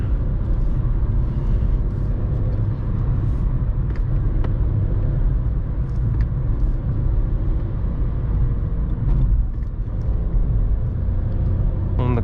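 A Skoda Fabia III with a 1.0 MPI 60 hp engine is driven hard through corners on a curvy road, a steady loud low engine and road rumble heard from inside the cabin with slight swells in load.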